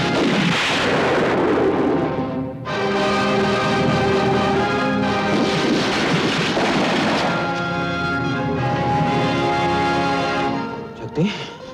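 Heavy booming cannon blasts roll one after another in a continuous barrage during a Hindi film battle scene, loud and dense, with a dramatic music score layered over them.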